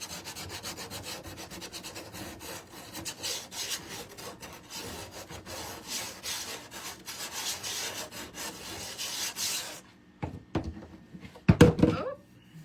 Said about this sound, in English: All right, so we're gonna take our sandpaper. You can go around your edges,